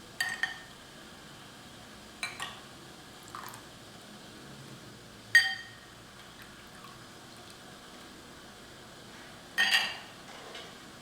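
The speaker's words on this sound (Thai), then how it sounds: "เดี๋ยวตักน้ำออกสักหน่อยหนึ่งเพราะว่ารู้สึกว่าจะเยอะไป" A few scattered scraping clinks of a metal ladle against a wok as water is ladled out of boiling jujubes, with small splashes of water, spaced out over quiet background.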